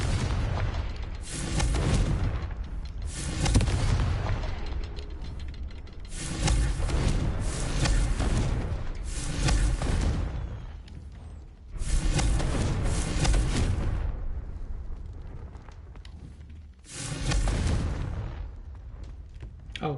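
Confringo blasting-spell explosions in Hogwarts Legacy, several loud booming bursts in succession, each swelling and fading into rumbling debris before the next one hits.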